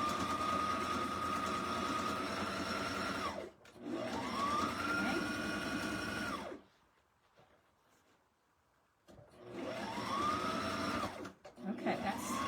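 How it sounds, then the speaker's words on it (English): A sewing machine stitches through a dish mat and kitchen towel to make a pocketbook purse, whirring steadily and close up in two long runs separated by a quiet pause, then starting again briefly. "Just sew it straight down."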